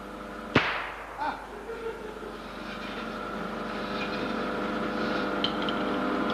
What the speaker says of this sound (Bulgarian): имате ли готовност отново да стреляте?